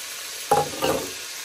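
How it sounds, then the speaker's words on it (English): Fat sizzles and crackles in a hot pan, two short bursts of frying noise over a steady background hiss. "once it starts to really sizzle and you get some fat out"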